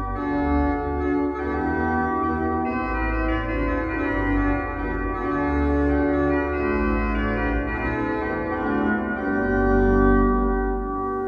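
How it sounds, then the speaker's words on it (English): A Johannus LiVE 2P digital organ plays a sustained passage on its cornet stop, with full, steady chords and a bright, reedy tone throughout. "you have a beautiful cornet on the first keyboard, and we replaced it to the grate."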